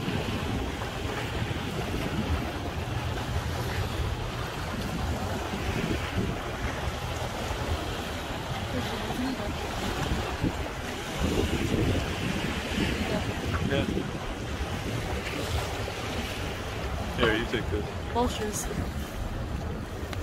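Waves churn in shallow water around a sailboat under steady, loud wind noise, with sloshing and rushing water throughout.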